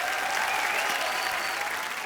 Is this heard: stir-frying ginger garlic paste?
no